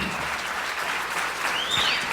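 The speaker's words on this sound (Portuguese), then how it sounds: "Aplauda Jesus" Church congregation applauding during an evangelical service, a steady dense wash of clapping throughout with no clear voice on top.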